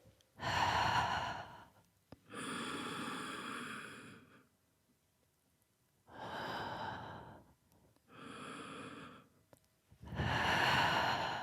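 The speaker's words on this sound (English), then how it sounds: "Exhalation, you curl up. You inhale into an arch. Exhalation, you start to sit back. Inhale. Exhale." Deep, slow breaths during a floor exercise for the hips and spine: four or five long, audible inhales and exhales, close and clear, with short pauses between them and no talk.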